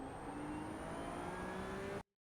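A Ferrari 296 engine in the iRacing simulator on the Indianapolis road course holds a steady, buzzing high-revving drone with a faint rising whine, then cuts off abruptly into silence.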